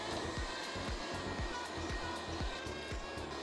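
An M203 robot vacuum cleaner with self-emptying station runs with a steady loud whirring hiss, broken by a regular series of soft low thumps as it moves across the floor.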